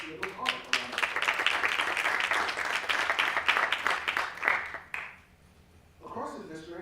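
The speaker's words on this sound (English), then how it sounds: "let's give our students in the field of art a round of applause" An audience in a high school theater at a board of education meeting applauds art students with dense, sustained clapping for about five seconds, which then stops abruptly before a voice begins speaking.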